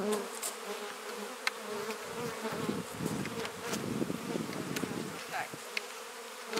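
Honey bees buzz densely around an opened hive, a close, continuous swarm hum with individual bees zipping past the microphone, fairly quiet overall.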